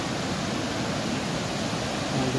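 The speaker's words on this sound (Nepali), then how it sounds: "यहाँ सेती खोला अहिले बढिरहेको छ" The swollen Seti river, a continuous broadband roar of rushing water, steady and loud throughout with no talking.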